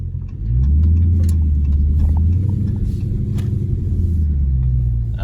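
A Dodge Scat Pack in track mode accelerates with a deep, steady engine rumble that swells and holds loud and close for several seconds, with no talking.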